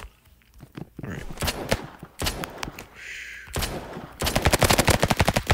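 Revolver gunfire in the Roblox game Rivals comes in loud bursts of shots, with rapid repeated cracks near the end and scattered thumps and footsteps between them.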